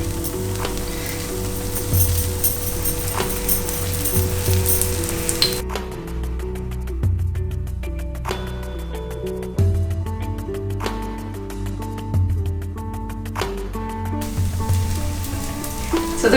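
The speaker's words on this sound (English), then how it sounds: "I'm just adding a little bit of ghee" Ghee sizzles on a sponge dosa in a pan for Kerala-style Onam cooking, a steady close frying hiss running throughout, with a few light clinks and background music.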